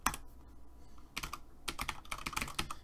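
Keys clatter on a computer keyboard as a command is typed into a Windows terminal, quick bursts of close clicks separated by short pauses, with no talk.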